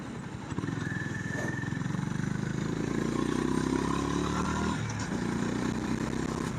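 Honda CB350RS 2025 motorcycle engine pulling steadily through city traffic, a close, continuous throaty rumble that builds slightly in the middle, with a brief dip near the end before carrying on.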